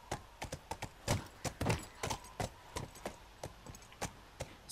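Horse hooves clip-clop in The Last of Us, a steady run of sharp, evenly spaced hoof strikes over quiet game ambience, close and moderately loud with no talking.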